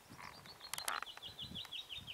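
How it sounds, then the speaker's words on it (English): A bird sings outdoors in a faint, rapid series of repeated high chirps, with a few brief louder bursts of noise in the middle. "You hear that bird?"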